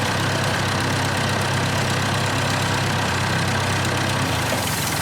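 A tractor engine runs steadily with its throttle pulled up, a loud, continuous mid-to-low mechanical drone with no voices.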